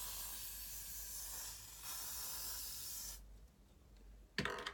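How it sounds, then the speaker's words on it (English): A steady hiss of aerosol hair spray runs for about three seconds, stops, then a brief second spray follows. "spray it along my perimeter"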